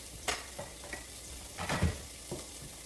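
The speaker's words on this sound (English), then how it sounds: "See, you can sizzle, you can hear it sizzle." Onions and garlic frying in a hot pan, a soft constant sizzle broken by several louder stirring scrapes and bursts of hissing.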